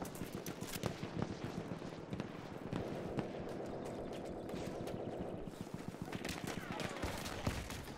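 Madsen machine gun in Battlefield 1 firing rapid, fast-cadence bursts amid other battlefield gunfire, fairly faint, with a voice talking over parts of it.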